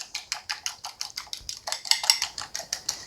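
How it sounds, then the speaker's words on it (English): A fork whisks one egg with salt and pepper in a bowl, giving steady rapid clinking strokes against the side, close and crisp, with no talking. "And we're just going to whisk this together."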